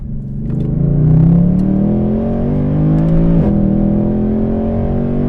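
A powerful Mercedes C63 AMG Black Series engine revs up, drops back with a sharp blip, then settles into a deep, throaty rumble close by.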